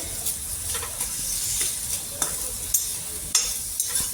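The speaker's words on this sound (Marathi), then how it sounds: "लालसर कलर येईपर्यंत छान असं कांद्याला आपण भाजून घेऊ" Vertically sliced onion roasting in a pan until reddish for a masala paste, with a continuous sizzle and regular scraping stir strokes about every half second, close and clear with no talk.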